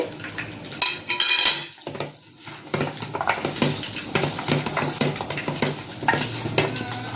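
Pakodi batter with cashews, green chillies and curry leaves being mixed, close clattering and wet scraping of a spoon against a bowl in quick irregular strokes, with a short quiet pause near the start.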